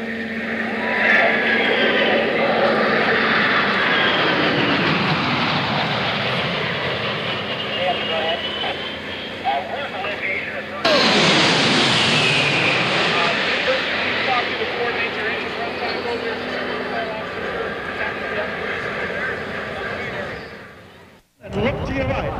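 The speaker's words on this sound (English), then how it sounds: "And here it comes, boom down, the KC-10." KC-10 tanker aircraft passing at an airshow with its refuelling boom lowered, a loud sustained jet roar that swells into a sharp rush near the middle before fading, heard under crowd and announcer voices.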